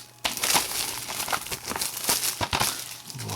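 The packaging of a Bates Motel season 3 set crinkles and tears close up as it is unwrapped, with quick, irregular rustling and plastic crackle throughout.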